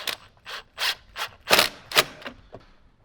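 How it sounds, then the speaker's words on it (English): A side screw is driven in and tightened on a Jeep JL, giving a series of about eight close, sharp ratcheting bursts in an uneven rhythm. "Now we can go ahead and get the side screw lined up and screwed in."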